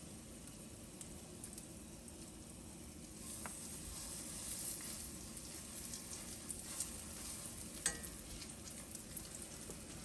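Potato cakes fry in a pan with a soft, steady sizzle and hiss throughout, with a few faint crackles and clinks. It is fairly quiet and close, with no talking.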